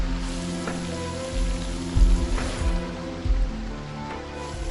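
Rain falls steadily on surfaces in a dense, close patter, with a few heavier drops and thuds standing out over a constant hiss.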